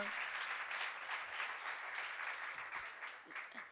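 Debate audience applause, a steady wash of clapping from a crowd, fairly even and without a break, heard quietly at a low level.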